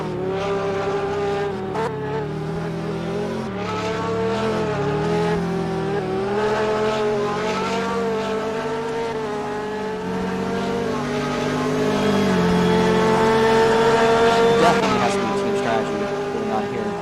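Race car engine on the Daytona circuit at the 2023 season opener, heading into the infield: a continuous, moderately loud engine drone whose pitch rises and falls through gear changes, with faint voices over it.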